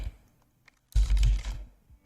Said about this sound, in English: Now if I'm typing something, sample content,